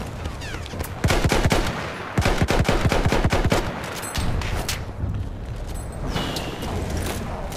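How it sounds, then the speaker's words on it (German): Rapid bursts of gunfire in Battlefield 1 Conquest multiplayer on the Argonne Forest map, loud sharp volleys and automatic fire in dense clusters, followed by more scattered, distant shots with background battle noise. "Die schießen auf irgendwen hinter mir."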